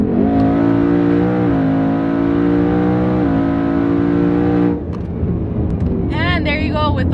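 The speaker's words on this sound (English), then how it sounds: "Let's do another pull, because of course I love that so much. So again, another 60 in third gear." A twin-turbo Ford Mustang GT pulls hard in third gear, its loud engine note rising steadily for about five seconds before cutting off into quieter road noise and brief high chirps.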